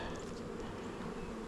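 Honey bees buzz steadily across an open brood frame lifted from a hive during a March varroa mite check, a dense continuous drone close by with no talk.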